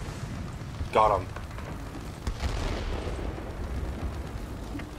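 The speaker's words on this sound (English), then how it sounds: "That's how you do a bombing run." Explosions and gunfire from a bombing run in a warplanes video game: one sharp, loud blast near the start, then a rumbling, noisy wash of distant detonations and firing, with a brief spoken remark over it.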